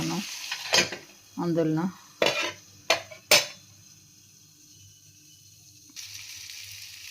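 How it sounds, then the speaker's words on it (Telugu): Ivy gourd for chutney sizzling in a pan, stirred with a utensil in a few short scraping bursts, with a pan clatter and a brief voice, then a quieter low sizzle continuing toward the end. "ఈ విధంగా వేగుతున్నాయండి."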